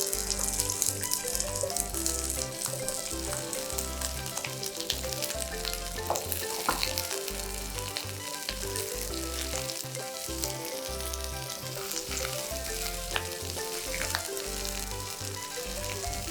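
Onions and ginger frying together in a pan while preparing kung pao tiger prawns, a dense steady sizzle that carries on without a break for the whole stretch, fairly close and busy, with occasional faint clinks over it and no talking.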